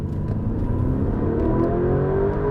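A 2019 Lamborghini Urus in Strada mode accelerates at full throttle, engine note rising steadily and smoothly with a fairly restrained exhaust, loud and close throughout with no talking.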